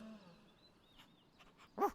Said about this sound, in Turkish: Köpek çaresizce havlamaktadır.